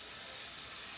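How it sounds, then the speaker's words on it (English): Tap water runs steadily into a small cooking pot of pig feet, a continuous hiss lasting about a second, close and fairly quiet with no talking. "go ahead and add some water to it"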